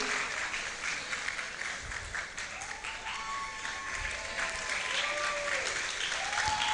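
An audience at a law faculty graduation roll call ceremony applauds a graduate, steady sustained clapping from a hall full of people, with a few faint voices and tones rising over it.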